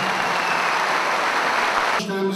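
Crowd applause at a CHP candidate introduction rally in Sinop honoring Engin Altay: a dense, steady wash of clapping that cuts off abruptly near the end as a voice begins speaking.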